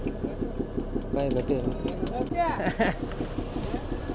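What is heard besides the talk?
fishing boat engine approaching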